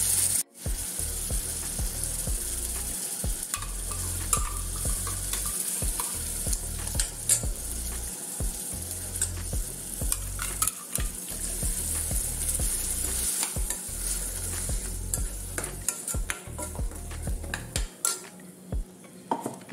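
Irumbanpuli (bilimbi) chutney mixture bubbling in a pan, with a steady close-up sizzle and frequent scraping and clinking of a spoon against the pan throughout.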